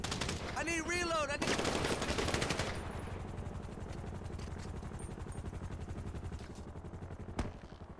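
Rapid automatic gunfire during a prison riot in GTA 5, dense loud bursts at first that thin into steady rattling shots, with a shouted voice briefly over the opening.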